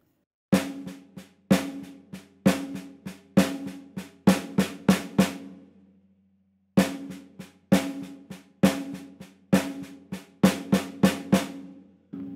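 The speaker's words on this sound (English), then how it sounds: "just on the snare drum, that would sound something like this." A solo snare drum plays a fill of sharp, crisp strokes in accented groups of three. A short burst is followed by a pause, then the pattern repeats, loud and close with no voices.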